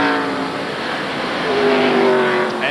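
NASCAR stock cars racing through the S's at the 1993 Save Mart Supermarkets 300, a loud engine roar with a rising, sweeping pitch as a car accelerates past.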